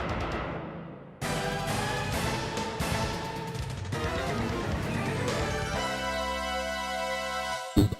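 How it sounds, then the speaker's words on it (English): Music and sound effects from the arcade fighting game Fighting Street play loud and dense, with synthesized tones and sustained chords, a brief burst near the end, and no voices. "The award for best background music and sound in a video game goes to Fighting Street,"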